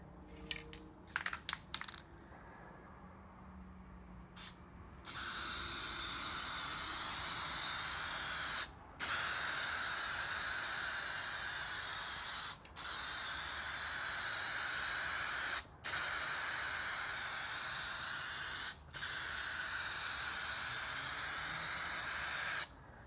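Spray gun laying down a final coat of paint on a 1989 Nissan Patrol during rust repair: a loud, steady hiss in long bursts, broken by four short pauses, after a few faint clicks at the start.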